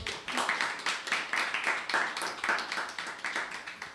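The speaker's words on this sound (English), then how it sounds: "A round of applause for George." Audience applause at a talking arts center event, a small crowd clapping in a quick, slightly uneven rhythm whose individual claps stand out, close and fairly loud throughout with no speech.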